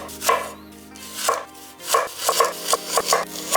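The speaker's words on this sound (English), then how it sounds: "Peel and then slice the shallot." A knife slices through a peeled shallot on a cutting board, giving about eight crisp, close chopping strokes, spaced at first and then quicker and evenly paced, with no talking.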